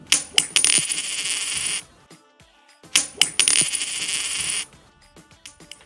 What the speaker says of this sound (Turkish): Ben de yere para düşürdü zannettim birisi.